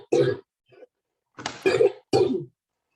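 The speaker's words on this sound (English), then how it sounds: "I'm going to have to cough, so just excuse me." Three close, loud coughs with a small throat sound between them, one adult indoors, isolated bursts separated by silence.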